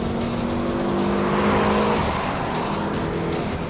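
A front-wheel-drive car is driven fast through curves at 140–150 km/h, its steady engine drone and road roar filling the clip with a rising, sustained tone and no speech.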